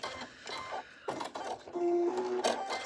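A sewing machine stitches lines across a quilt backed with a quilter's grid interfacing, with a busy mechanical whirring run broken by brief pauses and a short higher whine near the end, close by and moderately loud.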